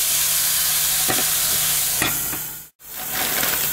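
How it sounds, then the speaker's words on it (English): Tuna cooking in a pan greased with nonstick spray, a loud continuous close sizzle with a few soft spatula scrapes, briefly dropping out near the end. "add the tuna and let that cook, put a lid on it, and kind of mix it up with a spatula."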